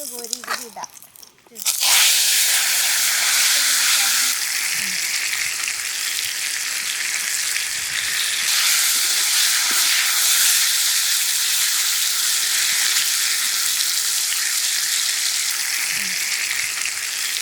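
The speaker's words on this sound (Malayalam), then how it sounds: "ഇനി ഈ കിഴങ്ങ് കോരി ഇതിലിടാം" Boiled tapioca is scooped into hot coconut oil with mustard, curry leaves and dried chillies, setting off a loud, sustained frying hiss that holds steady for many seconds after a short quiet lead-in.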